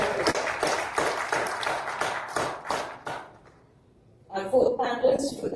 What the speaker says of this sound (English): let's give him a round of applause and welcome.